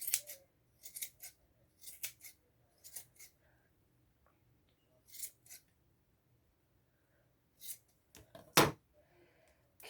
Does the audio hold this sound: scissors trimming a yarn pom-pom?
yes